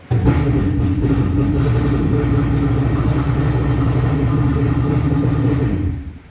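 Used, dirty jet ski engine running on its trailer, a loud, close, rough droning rumble that holds steady and then cuts off near the end.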